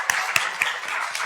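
A handful of people at a pitch competition event clap in sparse, spaced claps, a few distinct sharp hits over a soft wash of background applause, fairly close and without talk.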